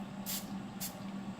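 Three short, hissing spritzes of screen protector installation solution from a spray bottle, used for wet-installing a protector on a Fitbit Charge, come evenly spaced and close by.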